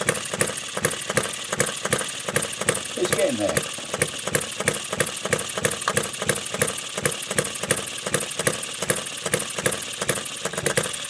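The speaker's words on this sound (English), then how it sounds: "it's a bit temperamental when it's running, but it does run. Albeit the jumping." A Retrol Musa HM-01 hit-and-miss four-stroke gas engine runs close by with a steady rapid chugging beat, the firing pulses occasionally uneven, while someone talks over it.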